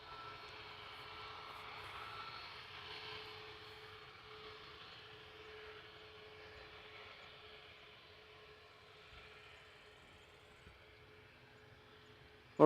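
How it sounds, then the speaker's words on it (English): A Ryanair Boeing 737 MAX 8 jet taxis at an airport, its engines a faint distant hum with a thin steady whine, fading slightly before a sudden loud knock at the end. "Got a Ryanair 737 MAX 8 on its way to Dublin."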